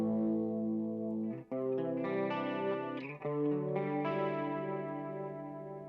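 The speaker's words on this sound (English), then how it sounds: "Test the transition by playing between full volume and then rolling the volume off." Electric guitar played through a Boss GT-10 multi-effects unit, sustained chords ringing with a chorused, echoing tone, cut twice by short dips, the last chord swelling and then fading as the volume is rolled off.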